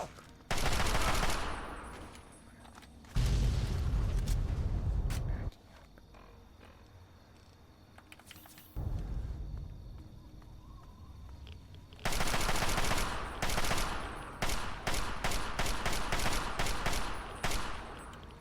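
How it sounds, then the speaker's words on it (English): Sniper rifle gunfire in Fallout 3 across the Capital Wasteland, loud bursts of shots in several clusters separated by quieter stretches, with a dense rapid run of reports toward the end. "Yeah, it's definitely a sniper rifle."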